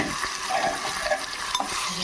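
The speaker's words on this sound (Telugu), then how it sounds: "అది కూడా ఎమ్మటే తిప్పేసుకున్నాం." Cucumber and coriander chutney stirred in a frying pan, giving a close, soft sizzle with scraping, wet stirring strokes and a few light clinks of the utensil against the pan, with no voices.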